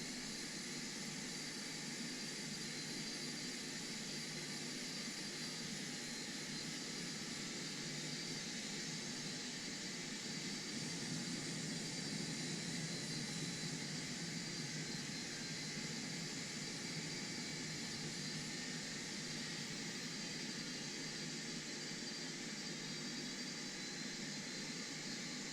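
A Boeing 747-200 engine spooling up in a flight simulator, a steady broadband jet whine and rush that holds at a constant level throughout, with no voices.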